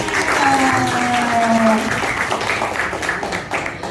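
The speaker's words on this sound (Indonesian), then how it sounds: "tepuk tangan untuk kita semua" A classroom full of people claps loudly and steadily for a few seconds, with a voice briefly heard at the start.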